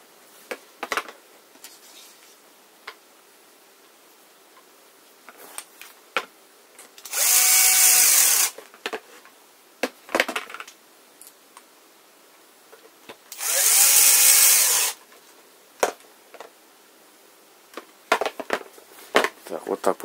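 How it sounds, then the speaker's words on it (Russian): Power drill driving into pre-drilled holes in wood while building a small children's table, two loud bursts of whine of about two seconds each, separated by quiet handling clicks and knocks. "Мы вставляем и засверливаем, уже было отверстие"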